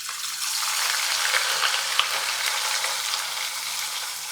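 Dried anchovies frying in hot oil, a dense, continuous close sizzle with fine crackling pops throughout, no voices.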